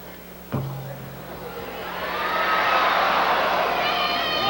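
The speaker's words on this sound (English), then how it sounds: "Collective groan from the crowd" Basketball crowd at a 1996 St. Patrick's versus Whitehall game rising into a loud, swelling collective groan after a sharp thump, the mass of voices filling the gym for several seconds.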